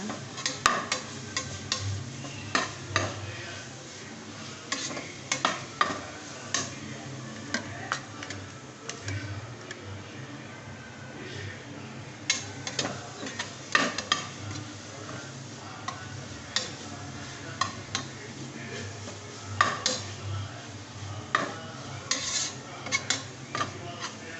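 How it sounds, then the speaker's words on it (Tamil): Masala being sautéed and stirred in a pan for samba rice chicken biryani, a steady sizzle under repeated clicks and scrapes of a spoon against the vessel, close and continuous with no talk. "பச்சை வாசனை போகிற அளவுக்கு வதக்கிக்கோங்க"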